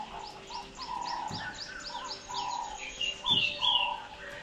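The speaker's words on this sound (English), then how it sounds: "Do you hear the birds?" Several birds chirp and whistle in repeated quick phrases, with soft cooing calls mixed in, fairly near against a quiet morning background at a tented camp in Kruger Park.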